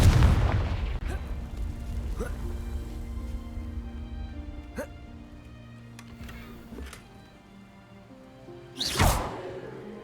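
A deep booming blast opens, with a low rumble that fades away, from a Confringo blasting spell in Hogwarts Legacy. Scattered sharp magical pings and chimes follow, then a second burst with a whoosh near the end.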